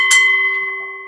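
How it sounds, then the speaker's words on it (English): A single bell strike opens a wrestling show, with a sharp metallic ding that rings on as a clear sustained tone, close and loud, and no talk. "Opening bell."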